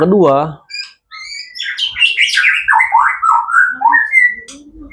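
An oriental magpie-robin sings a varied run of clear whistles and chirps, close and loud, with a short human voice at the start.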